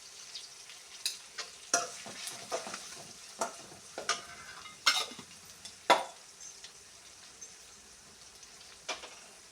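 Onions frying with ghee for a vegetable pulao, a steady soft sizzle broken by repeated sharp scraping stirs of a spoon against the pan, close by with no talking.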